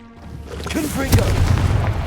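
A Confringo blasting spell from Hogwarts Legacy bursts into a loud, deep explosive boom partway through, rumbling on afterward, following a brief spoken incantation.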